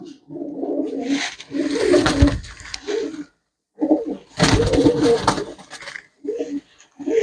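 Pigeons for sale give soft, repeated cooing calls in short bursts separated by brief pauses, close by, with a voice talking among them.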